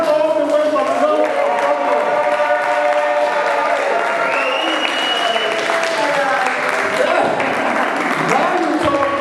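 Applause and cheering from a crowd for a performer at a Harlsden show, loud and continuous, with voices and tonal music mixed in throughout.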